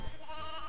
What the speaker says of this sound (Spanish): La ovejita.